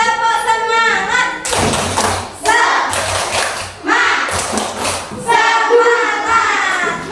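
A class of children performs the tepuk semangat spirit clap in a classroom. They clap and thump in short rhythmic bursts, and the claps alternate with chanted voices in unison.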